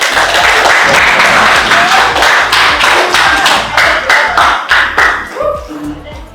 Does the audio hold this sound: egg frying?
no